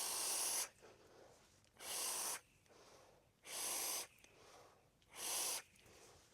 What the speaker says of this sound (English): Let's have a vape.